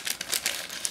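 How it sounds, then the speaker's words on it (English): A small plastic bag holding transparent parts and a decal sheet from a Miniart 1/35 GAZ model kit crinkles as it is handled, giving a close, steady run of soft crackling rustles with a few brighter crinkles. "Then we have a small plastic bag in which you would find"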